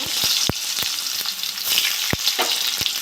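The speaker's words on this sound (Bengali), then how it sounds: "তেলটা গরম হয়ে গেছে আমি এবার পেঁয়াজ দিয়ে দেবো" Onions frying in hot oil in a pan after small puti fish were fried in it, a steady close sizzle broken by sharp scraping strokes of the spatula, about nine clear knocks across the stretch, with no voices.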